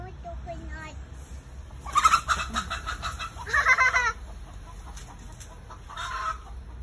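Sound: chicken clucking

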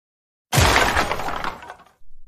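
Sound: shopping cart knocked over, groceries crashing and breaking

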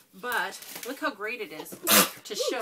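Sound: sneeze

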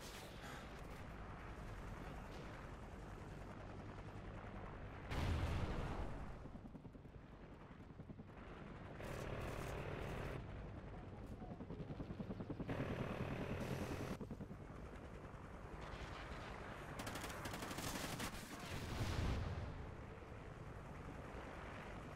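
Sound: helicopter and gunfire in Call of Duty Ghosts video game

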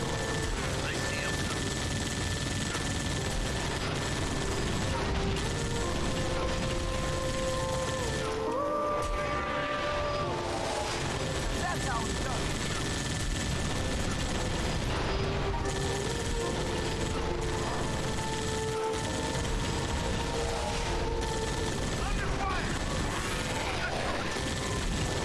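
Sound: turret placed and firing in video game Halo: Spartan Assault

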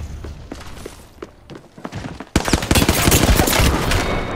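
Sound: gunfire from the video game Apex Legends

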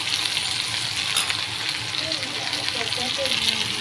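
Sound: capsicum pieces sizzling in oil with okra meat curry

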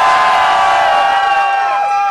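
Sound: crowd cheering for Sarah in bull riding contest

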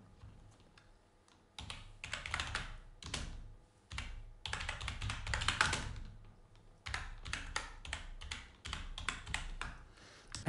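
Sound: typing on a computer keyboard

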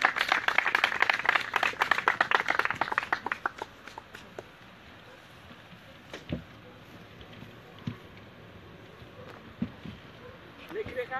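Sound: audience applause for the performers

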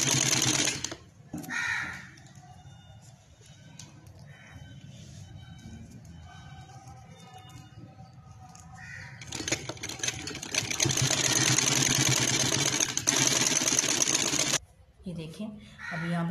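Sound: sewing machine stitching a sleeve

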